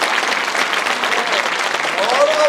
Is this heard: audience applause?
yes